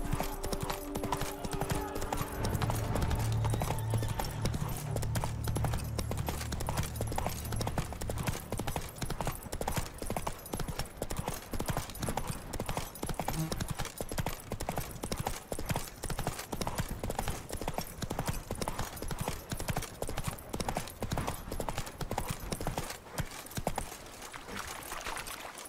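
Roach the horse gallops in The Witcher 3: Wild Hunt, Blood and Wine DLC, a steady rapid clip-clop of hooves running continuously and fairly close, with brief game music and effects early on.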